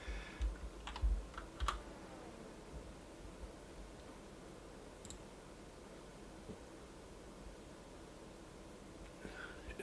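Quiet, scattered keystrokes on a computer keyboard, with a small cluster of taps at the start and then sparse faint clicks over a soft hiss of background noise.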